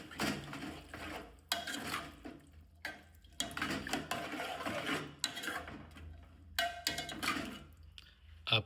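Boiled chana dal is stirred and mixed in a metal cooking pot, giving repeated scraping and clattering strokes of spoon against pot in uneven bursts, close by, with no talk.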